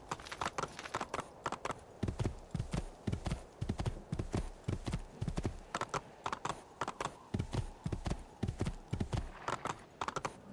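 Horse hooves in Assassin's Creed 2 beat a fast, steady clip-clop gallop, loud and close, continuing throughout with no talk.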